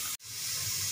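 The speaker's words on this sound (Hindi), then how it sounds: "वही ऑयल डाल रही हूँ इसमें" Continuous loud hiss and sizzle of a cup of hot oil, previously used for frying kebabs, hitting a pan of onions browning for biryani, with a brief dip near the start before the sizzling resumes steadily.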